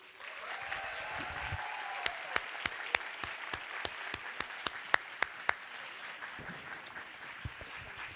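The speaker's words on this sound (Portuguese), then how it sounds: "Eu chamo ao palco a Aline Bey, palmas para a Aline Bey" Audience at a book fair applauding as an author is called to the stage, a steady crowd clapping with a few louder individual claps standing out, fading slightly near the end.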